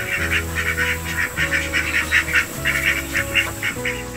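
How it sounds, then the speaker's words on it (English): A flock of ducks quacking on a farm, loud rapid repeated quacks in a steady pulsing chatter lasting several seconds, close by with no speech. "it sounds like the ducks are just about as excited as I am about it"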